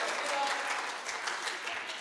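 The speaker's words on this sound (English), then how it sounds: "can we give Peter a round of applause as he comes up on stage" A crowd claps for a volunteer walking up onto a stage, producing a brief burst of steady, fairly loud applause from many hands throughout.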